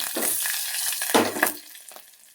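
Urad dal, green chilies and curry leaves fry in a pan, crackling in loud bursts with a hiss that fades, over close-up stirring noise.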